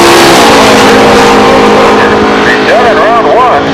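Two drag-racing Mustangs, an 89 and a 90, roaring at full throttle, loud and close with rising engine pitch, while an announcer talks over the engines.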